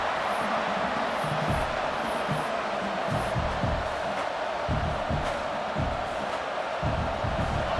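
Stadium crowd in EA Sports College Football 26 roaring steadily behind the defense on a big third down, a dense continuous wash of cheering with rhythmic swells throughout.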